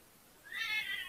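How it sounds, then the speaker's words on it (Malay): A single drawn-out cat meow, fairly close and loud, rising then trailing off after a moment of quiet. "Kucing baru nak gaduh"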